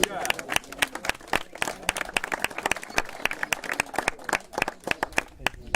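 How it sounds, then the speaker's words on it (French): Spectators clap steadily at the podium of a youth cycling road race, sharp individual claps close by over a lively outdoor crowd, with voices mixed in. "Voilà le bouquet, la coupe également, et les applaudissements du public."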